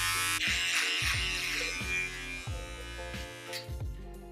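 Electric razor shaving in a half drag, half male makeup transformation, a steady close buzz with repeated strokes that rise and dip in pitch, loud and continuous, with no talking.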